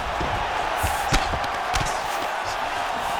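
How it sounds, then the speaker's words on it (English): An arena crowd at a mixed martial arts fight roars during grappling on the ground, a loud sustained rumble punctuated by a few sharp bursts of cheering and impacts. "the crowd pops in appreciation as the fighters work their way back to the field"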